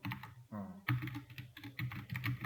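Typing on a computer keyboard during a Linux class, a quick run of close, crisp key clicks that keep going without a break for the length of the clip.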